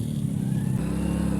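A motorcycle engine pulls hard on a dusty off-road trail, a steady low drone that shifts pitch partway through the short stretch. The sound is close and continuous, with no voices.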